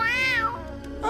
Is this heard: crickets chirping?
no